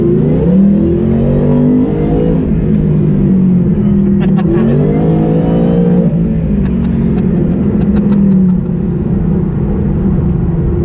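A Stage 2 Whipple supercharged 2018 Mustang with a 10R80 transmission revs and pulls hard under acceleration, its pitch sweeping up and down with gear changes, loud and close throughout.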